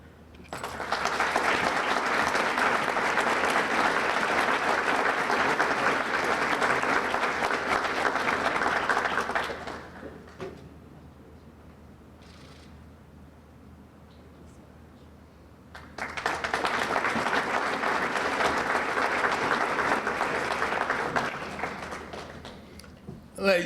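Audience applause for award recipients at a Marshall University community awards ceremony: a long burst of loud clapping, a quiet pause, then a second sustained round of applause.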